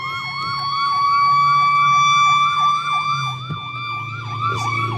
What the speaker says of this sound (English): we have a fire truck coming behind us